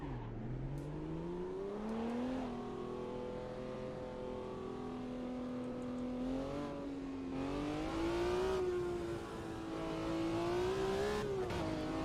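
A race car engine in the Automobilista 2 sim racing game revs steadily and loudly for the whole stretch, its pitch rising and falling in smooth sustained swells with no talking.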